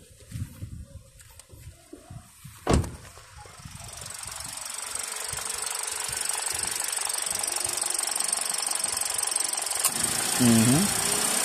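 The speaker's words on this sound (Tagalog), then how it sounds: "Ayun, gumana na naman yung compressor" An air conditioner compressor kicks on after a few clunks and a sharp knock, then settles into a steady hum and hiss that grows and holds, with faint voices early on.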